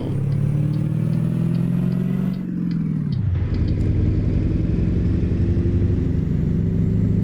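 A Caterpillar 3208 diesel in an International F-5080 truck in American Truck Simulator drones steadily, dips as the transmission shifts gear, then climbs again in a loud, continuous engine note.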